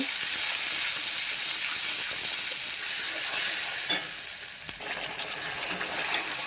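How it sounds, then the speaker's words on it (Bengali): Spice paste frying in a pan for a Bengali mustard-poppy seed dish, a steady close sizzle and crackle running throughout with occasional soft stir clatters and no voices. "এরপর আমি এটাকে ভালো করে কষিয়ে নেব।"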